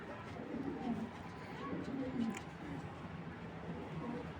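Several foreign-breed pigeons, including silver birds, coo softly in a loft, with low, rolling calls repeating throughout against faint background noise.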